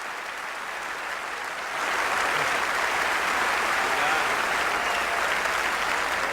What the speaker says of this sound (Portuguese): Aplausos para o meu querido Guga Sax